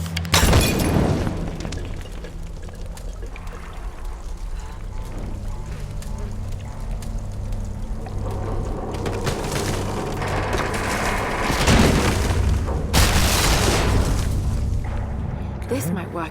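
A lantern is shot and bursts in the Tomb Raider video game, giving a loud booming explosion near the start, followed by sustained rumbling, crackling game noise with further blasts partway through and a strong burst late in the clip.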